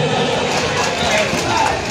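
Outdoor audience at a PSN Ngada 2023 ceremony on Lapangan Kartini, giving a loud, steady burst of clapping and cheering for Evo, a dense patter with no pauses.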